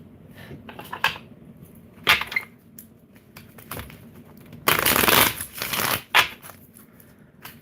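Tarot cards shuffled by hand in several separate bursts, riffling and sliding close to the listener, with one longer, louder riffle near the middle and quiet gaps between.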